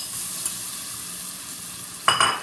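Sugar caramelizing in a pan with apple, a constant soft sizzle with a sharp louder stir or scrape near the end, no voices.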